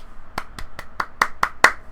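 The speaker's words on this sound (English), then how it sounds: "Round of applause." A single pair of hands clapping seven times in a quick, slightly accelerating rhythm, close and sharp against a quiet background.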